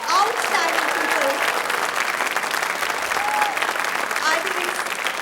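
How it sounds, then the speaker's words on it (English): A large audience at a dance academy summer show gives a loud, sustained round of applause with cheering and whoops mixed in. "Let's make huge round of applause for these 3 outstanding people."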